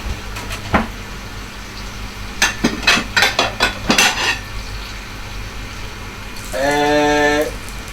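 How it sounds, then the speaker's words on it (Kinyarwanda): Clinks and scrapes of cutlery and a plate as fried rib steak, cote de boeuf, is moved onto a plate, several sharp taps in a cluster followed by a brief sizzling burst. "Ubwo inyama yahiye, icyo nkora nta kindi ni uguhita ko yizana hano ku isahani."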